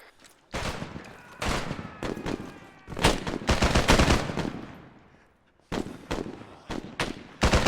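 Arma 3 military simulation gunfire: loud, close bursts of automatic weapon fire and single shots in rapid clusters, with a short lull before more shooting. No voices are heard.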